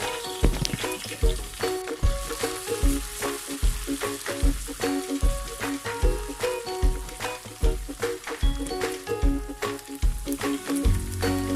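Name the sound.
ginger garlic paste sautéing with fried onions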